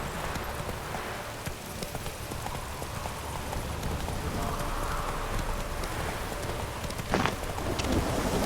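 Roach, a horse in The Witcher 3, trots through steady rain with a rumble of thunder, hooves clip-clopping under a constant wash of rainfall; a brief sharper crack comes near the end.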